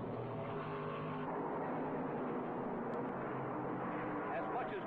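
Stock cars roar around the track at the 1978 Winston 500, a steady dense engine drone from the pack running close together, with a commentator talking over the racing noise.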